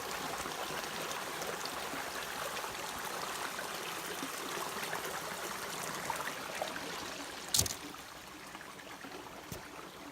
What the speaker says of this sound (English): We stopped here at a little creek.